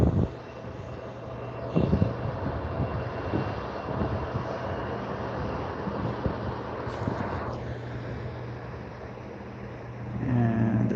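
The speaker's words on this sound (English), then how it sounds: "that, of course, is a CRJ 900" A CRJ 900 regional jet on the runway at Vancouver International Airport gives a steady engine roar with wind noise, holding fairly loud throughout and swelling slightly toward the end, with no talk.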